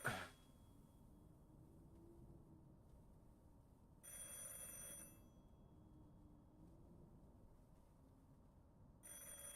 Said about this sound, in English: A phone rings elsewhere.